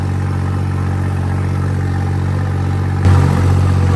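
A tractor engine runs in a wet field of ripe maize, a steady low mechanical drone close by, its pitch and texture shifting suddenly near the end, with no voices.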